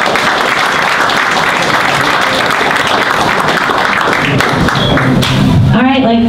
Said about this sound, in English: I'd like to give a round of applause to our panel tonight.